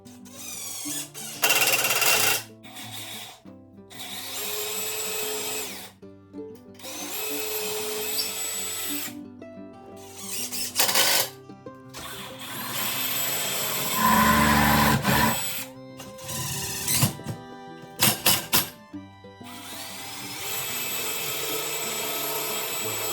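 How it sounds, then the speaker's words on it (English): A power drill drives screws to assemble a wooden wall cabinet frame in a workshop, with repeated loud whirring bursts separated by brief pauses and no talking. "So now I'm just gonna screw together my frame."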